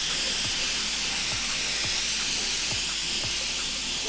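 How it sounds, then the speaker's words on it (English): An airbrush sprays paint onto a bike frame as a continuous bright hiss of air, steady and close, with faint regular ticks underneath and no talking. "you can come a tiny bit closer to the airbrush."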